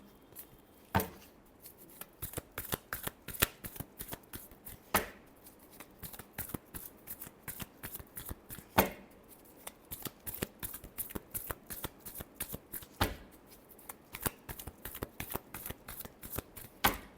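Tarot cards are shuffled over and over during a love reading, giving rapid riffling flutters and papery slaps in an uneven rhythm that runs throughout. Each burst is close but soft, and no voice is heard.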